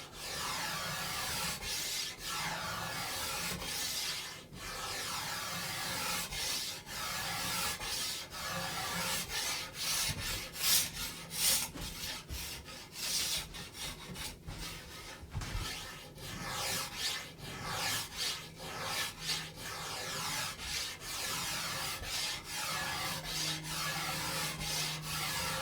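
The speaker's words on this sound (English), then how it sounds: "just a few swipes with the cabinet scrape at a time" A cabinet scraper is drawn repeatedly along an ash flat bow during tillering, making a steady series of close, raspy scraping strokes in an irregular rhythm, with no speech.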